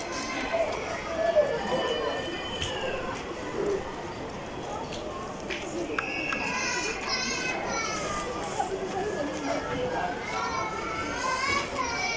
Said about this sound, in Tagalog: Family day ngayon, araw ng mga bata, kaya medyo maingay tayo dito